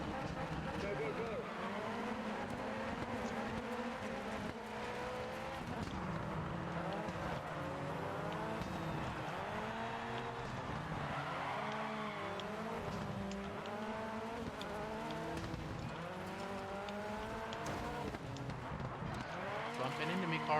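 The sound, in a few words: racing cars driving and skidding in a video game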